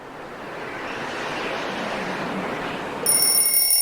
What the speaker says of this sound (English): Yes, that sound was leaves rustling.